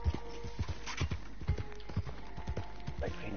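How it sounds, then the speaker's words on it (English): Horse hooves in the Red Dead Redemption 2 video game, a steady rhythmic clip-clop of a walking horse at moderate distance, with faint talk underneath. "oh, my horse just fell over"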